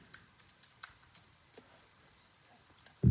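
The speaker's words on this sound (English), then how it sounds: "So I'm now going to type in Conda" Keys on a computer keyboard tapped in a quick, irregular burst of crisp clicks, close and alone in a quiet room, ending with a louder thump.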